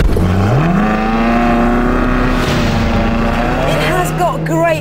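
A sports car in its sportiest drive mode pulls away with a steady engine note that climbs, then holds a loud continuous drone, with a brief tire-like squeal near the end.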